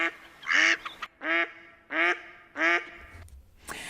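Ducks quack in four loud, evenly spaced nasal calls, close by and alone, followed by a faint low rumble.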